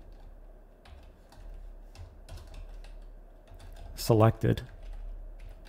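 Computer keyboard typing code, a light, irregular patter of key clicks under a man's speech, with a brief louder voiced burst midway.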